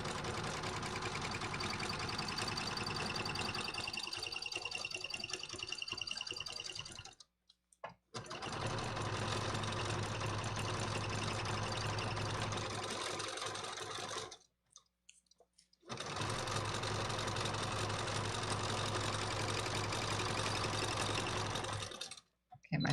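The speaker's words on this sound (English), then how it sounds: "my sewing machine's making a lot of funny like noises" A sewing machine that is making odd noises runs in three long bursts of rapid mechanical clatter and whirring, each one stopping sharply before the next starts, close and with no voices.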